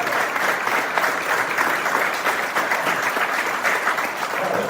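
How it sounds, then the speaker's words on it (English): Warm, sustained applause from a crowd in Louisville, dense, even clapping at a steady loud level that fills the whole stretch, with no voices on top. "Extended round of applause that she deserves"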